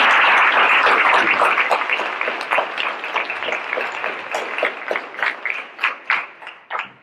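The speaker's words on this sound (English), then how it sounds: "Can we give the class of 2020 another round of applause?" An audience applauds a Hall of Fame class of 2020 at a high school athletics induction: a full, steady wash of clapping that gradually thins into fewer, more distinct claps toward the end.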